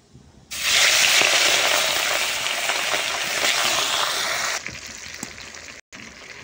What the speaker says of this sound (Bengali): তেল কিন্তু অনেকই গরম হয়ে গেছে। এবার দিয়ে দেবো মাছ।